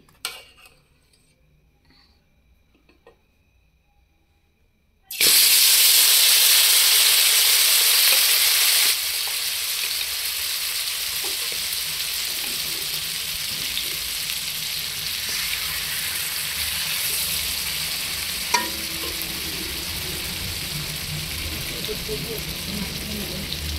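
After a few quiet seconds, marinated tandoori chicken hits hot oil in a wok on low flame with a sudden loud sizzle that settles into a steady frying hiss, with occasional soft clinks.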